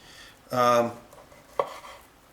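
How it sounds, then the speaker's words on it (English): A knife cuts meat into pieces on a board during home canning prep; there is one loud, half-second grinding cut followed by a sharp, brief knock, close up with no speech. "you want to cut it into pieces that are manageable"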